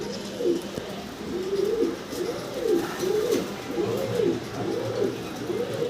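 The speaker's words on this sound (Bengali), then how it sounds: "আরো এক জোড়া আমরা শৌখিন কবুতর দেখতেছি" Fancy domestic pigeons in a loft coo in a steady rhythmic series of low, rolling calls, close and clear above a quiet background.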